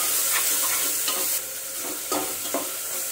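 Ginger garlic paste and onions sauté in a hot pan, a continuous close sizzle broken by several stirring scrapes.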